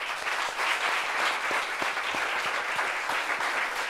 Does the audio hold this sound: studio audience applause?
yes